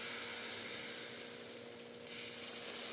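Meatballs in tomato sauce simmer in a disco pan, a steady close sizzling hiss that dips slightly in the middle and swells again toward the end, with no voices.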